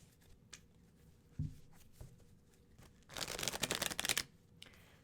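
Tarot card deck shuffled by hand, a dense riffling burst of papery flutter lasting about a second, preceded by a few faint isolated taps and clicks in an otherwise quiet room.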